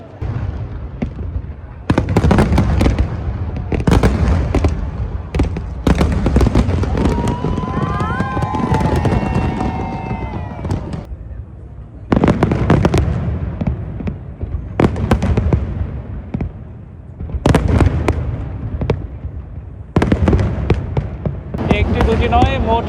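Fourth of July fireworks burst over the Brooklyn Bridge and barges in loud, repeated booms and crackling volleys, with a crowd chattering between the blasts.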